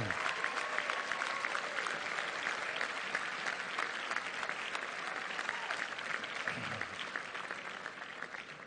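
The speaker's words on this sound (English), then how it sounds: "give a big Bentley cheer and thank you to your families" Bentley University graduates at an outdoor commencement ceremony applaud and cheer for their families, a sustained loud roar of many clapping hands that runs throughout and tapers slightly near the end.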